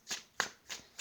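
A deck of tarot cards is shuffled in four quick, soft riffling bursts, faint and close, with no talk.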